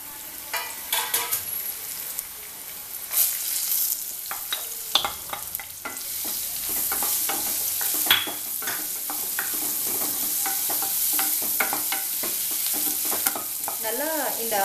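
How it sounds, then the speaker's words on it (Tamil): Onions fry for mushroom masala with a steady sizzle close by, while a spatula stirs through them in repeated scrapes and clatters throughout. "ஆட் பண்ணிட்டு அடுத்து ஆனியன் வந்து ஆட் பண்ண போகிறேன்."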